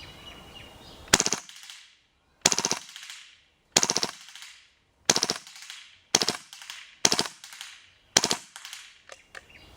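A KWA Kriss Vector airsoft gun fires full auto in repeated short strings of rapid, snappy shots, about eight bursts separated by brief pauses, close and loud with no talking.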